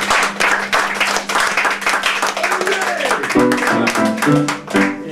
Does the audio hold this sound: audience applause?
yes